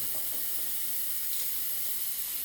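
Fine, steady hiss of Pampered leave-in moisturizer mist being sprayed onto curly hair, a continuous airy spray lasting the whole moment at close range with no talking.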